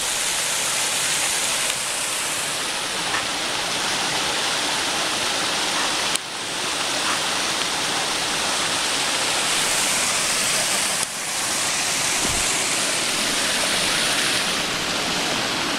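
Ellis Brook Valley's 60-foot waterfall roars as a steady, dense wash of falling water, loud and continuous from start to finish, with no talk heard over it.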